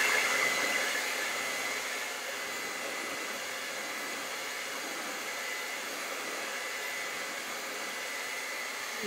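A hair dryer blows steadily on wet paint on a canvas of a Van Gogh-style vase with zinnias, a continuous even whoosh that starts slightly louder and settles for the full stretch.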